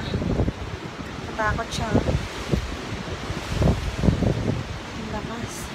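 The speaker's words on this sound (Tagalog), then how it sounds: "ang lakas ng hangin. Grabe siya." Strong gusty typhoon wind in Japan, October 2019, roars and buffets the microphone from a second floor, with a person talking briefly over the noise.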